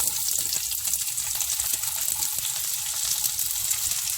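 Garlic and onion frying in hot oil, a loud continuous crackling sizzle up close with quick bursts of popping, no talking.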